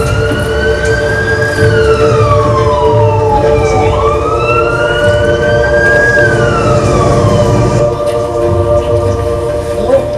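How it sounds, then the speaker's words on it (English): A fire truck siren wails loudly and continuously at a pre-prom emergency demonstration, its pitch sweeping slowly up and down over a rumbling engine, with no talking. "face that fire truck for me"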